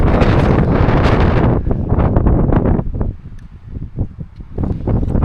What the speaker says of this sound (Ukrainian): Вітряно капець.